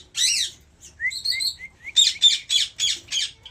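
Pet lovebirds in a home, several birds giving sharp high chirps and harsh squawks in quick bursts, close and loud, with short pauses between calls.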